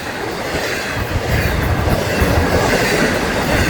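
A long FECR night train rumbles steadily past, wheels clattering on the rails in a continuous roar with faint metallic squeals, no voices.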